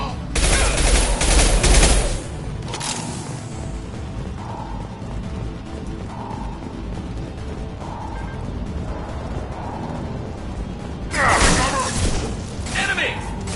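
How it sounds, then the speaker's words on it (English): Gunfire in the video game Mass Effect 2, including a high-impact shot: a loud, booming volley at the start, then quieter pulsing activity, and a second heavy burst of shots near the end, with voices speaking between them. "Firing a high-impact shot!"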